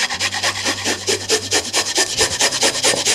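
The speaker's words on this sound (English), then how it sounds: "Got quite a large garlic clove." A large garlic clove is grated by hand over a bowl, giving a steady run of close, raspy scraping strokes in a quick even rhythm, with no talking.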